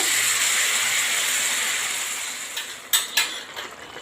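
Hot water hitting a pan of tuver and potato curry sets off a loud hiss that gradually fades, followed by two quick metallic clinks of a utensil against the pan.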